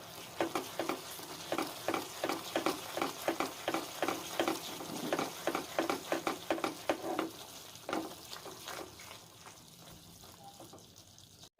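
Thick caramel sauce cooking in a pan is stirred in quick, rhythmic scrapes for several seconds, then the stirring slows and fades into a quieter bubbling simmer, with no speech.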